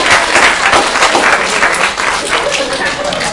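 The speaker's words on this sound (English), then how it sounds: "Give Jared a round of applause" Lively applause from a small group at a real estate meeting, cheering a colleague; brisk, dense clapping right up close, holding steady for a few seconds.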